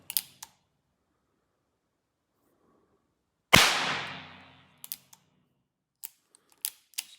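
Percussion caps pop on an 1860 Armi San Marco blackpowder revolver: a few small sharp snaps, then one loud crack with a decaying ring, followed by several more light clicks and snaps, close and without talk.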